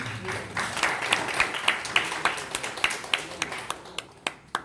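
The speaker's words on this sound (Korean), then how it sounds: "박수로 우리 격려해 주십시오." A military church congregation at a Sunday service gives applause, a thinning patter of many hands with distinct individual claps standing out, moderately quiet and fading toward the end.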